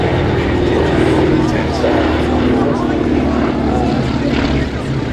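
A vintage Junkers Ju 52 airliner flies at the Flying Legends airshow at Duxford, its radial piston engines and propellers giving a loud, steady, rumbling drone throughout, with a voice talking over it.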